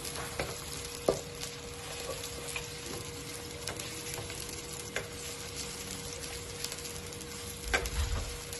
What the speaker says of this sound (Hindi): अब इसमें हम डालेंगे प्याज। बिस्मिल्लाह। और इसको 2 से 3 मिनट अच्छी तरह सॉफ्ट कर लेंगे।